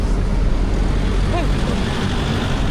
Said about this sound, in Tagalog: Daming sasakyan tsaka motor.